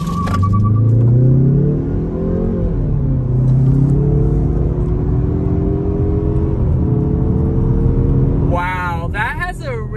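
A Mazda3 Turbo rated at 350 horsepower launches hard in sport mode, its engine revving up through several rising gear pulls with a strong low rumble, close and loud, ending with a whining, squealing burst.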